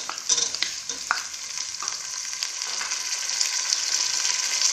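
Onion, carrot and potato sizzle steadily in a hot pan for coconut palav while a spoon scrapes and stirs, the frying hiss close and constant with scattered stirring clicks.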